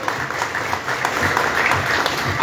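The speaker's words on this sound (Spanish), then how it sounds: "Venga los aplausos, por favor." Steady crowd applause at a motocross press conference in the Chacra del Chato, moderately loud and continuous, with no talk over it.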